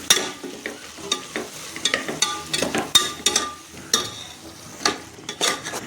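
Tomatoes stirred into frying onion, ginger and garlic for chicken gravy, a soft steady sizzle in the pan with irregular scraping and clinking of a spoon stirring, close and moderately loud.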